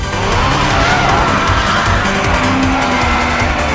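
A car drifts with loud, continuous tire squeal and skidding over a roaring engine, sustained and close throughout.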